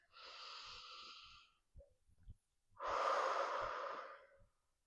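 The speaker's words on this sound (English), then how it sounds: "One more deep breath." A slow, deep breath during a hip mobility workout: one long airy exhale, a short pause with small catches of breath, then a second long, fuller breath, close and quiet with no talking.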